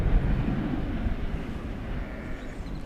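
Delta Airbus A319 airliner landing at DFW Airport, a steady broad roar of engine and air noise heard from a distance, even and unbroken throughout with no talk.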